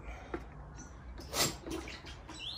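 A hot sterling silver pendant is plunged into a bucket of water, producing a brief bright hiss and sizzle around the middle, with faint drips and small splashes before and after in a quiet room.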